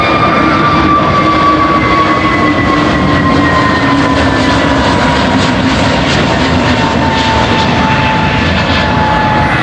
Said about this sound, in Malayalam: അങ്ങനെ ഏറെ നേരം കാത്തിരുന്ന ആ വിമാനം അതാ ആകാശത്തിലേക്ക് ഊളിയിട്ട് പറക്കുന്നു